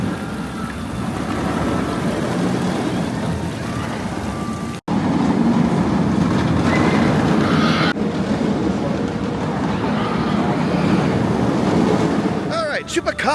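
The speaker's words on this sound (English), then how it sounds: "let's go get a ride on a B&M invert" A B&M inverted roller coaster train at a Six Flags park roars and rumbles continuously over a steady windy rush, loud and close as if heard from on board, with a brief break partway through.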